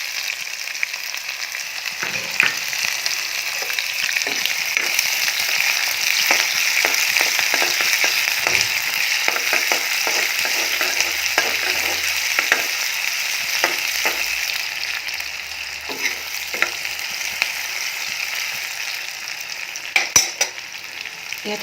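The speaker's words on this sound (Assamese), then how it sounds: "তেল গৰম কৰি ল'লোঁ, ইয়াত তেজপাত দিলোঁ, পিঁয়াজ কুটি থৈছোঁ দি দিলোঁ" Chopped onions and a bay leaf fry in hot oil for fried rice, a loud, steady close-up sizzle with scattered spatula scrapes and light clinks throughout, no voices.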